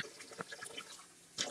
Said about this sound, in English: Alright, we're at the sink. 6 cups of water.